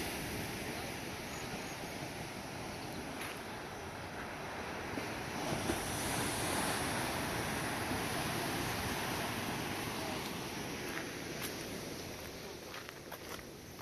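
Ocean waves wash continuously on a beach at Sosa, Puerto Plata, the day after Hurricane Irma. The surf is a broad, steady roar, rising slightly midway and blended with wind buffeting the microphone.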